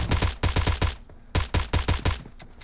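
A suppressed QBU88 marksman rifle fires in PUBG Mobile. Eleven or twelve muffled, punchy shots come close and fairly loud, spaced in quick runs of four or five with a short pause between the runs.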